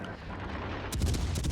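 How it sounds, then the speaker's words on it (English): Warship guns fire shells in the console naval combat game World of Warships Legends: a low rumbling bed, then a sudden heavy salvo of booming shots with repeated blasts close together near the end. "Continue to firing shells at the Dallas"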